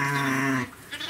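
A young ram on a farm gives a single loud, close, wavering bleat lasting about half a second, followed by a brief quiet moment of farmyard ambience.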